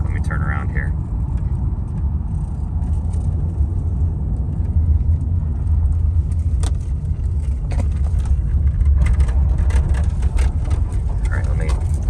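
A car drives and turns around on a road in Memphis. A steady low engine and road rumble fills the interior throughout, with a voice heard at times over it.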